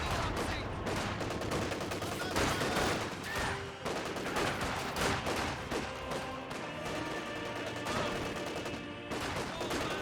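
In the video game Company of Heroes 2, an MG42 machine gun fires in dense, rapid bursts within a loud battlefield mix of other gunshots and explosions, continuous throughout.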